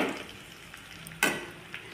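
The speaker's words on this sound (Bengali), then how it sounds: "মাছগুলো দিয়ে নাড়াচাড়া করব" Small fish stirred and frying with turmeric in a pan, a quiet sizzle with one sharp scrape of the utensil against the pan midway, close and fairly faint with no talk.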